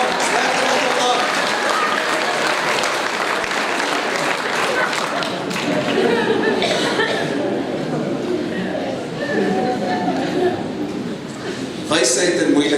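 An audience claps and applauds steadily for the full stretch, a dense wash of hand claps with voices talking over and through it.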